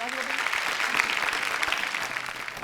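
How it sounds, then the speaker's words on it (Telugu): An audience claps in a brief, steady burst of applause during a Telugu game show segment, the clapping fairly close and continuous for a couple of seconds with some murmuring underneath. "దేనికి క్లాప్ కొట్టిరు?"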